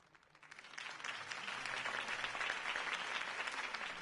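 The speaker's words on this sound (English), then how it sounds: "If only Mr. Wayne, my campaign's largest backer, could have heard that applause" Crowd applause in a video game following a campaign speech, rising from quiet into a dense, sustained clapping that stays loud and steady without any voices on top.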